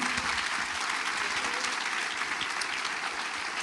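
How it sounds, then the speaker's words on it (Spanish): Church congregation applauding during a sermon, a dense continuous wash of many hands clapping at close range, steady and full throughout without pause. "Un aplauso a Cristo."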